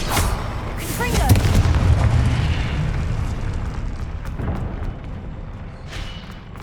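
A Confringo fire spell from the video game Hogwarts Legacy bursts in a loud, booming explosion, with a rumbling low-end blast and crackling debris fading out over several seconds.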